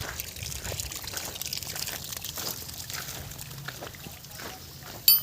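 Water gushes and trickles steadily from a broken, detached irrigation pipe on a farm orchard, a continuous close splashing flow throughout with a brief louder knock at the end.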